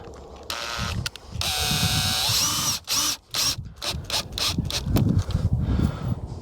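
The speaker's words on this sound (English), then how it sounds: "So I'm going to set my screwdriver on here and I'm going to start about 7." A power screwdriver drives screws into an RV power vent during replacement, giving several short, loud whirring bursts with brief pauses between them, close up.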